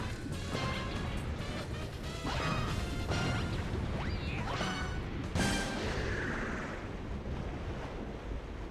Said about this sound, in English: we now have meteors crashing down, so we have to be even more careful here